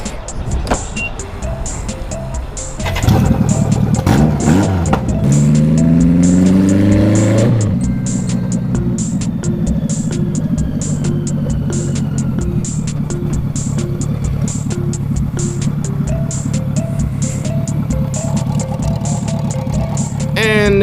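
A 1986 BMW K100 motorcycle engine running out on the road, rising sharply in revs through the gears before settling into a steady loud drone with wind noise; a voice can be heard briefly early on.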